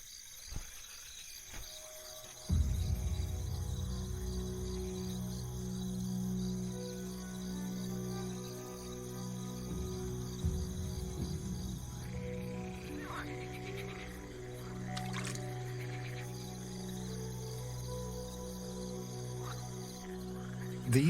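Iberian green frogs call from a pond at night, a dense continuous chorus of croaks and trills mixed with insect buzz, steady from start to finish after a quiet opening, near and fairly loud.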